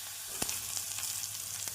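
Onions, tomatoes and green chillies sizzle and crackle steadily in a hot pan, with a few sharp pops breaking through the constant frying hiss.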